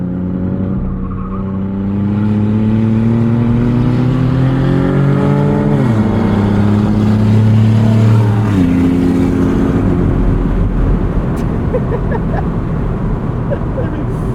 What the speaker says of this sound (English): the bellow of that raunchy V6 in that Impala